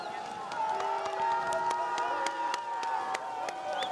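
Fans cheer and whoop at a freeride ski competition in Val Thorens, a steady crowd roar with scattered shouts and claps from a distance, with voices talking over it throughout.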